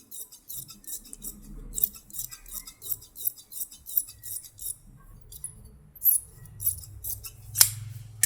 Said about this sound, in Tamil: தையல் போக மீதி இருக்கிற பிசரை வெட்டி எடுத்துகிட்டு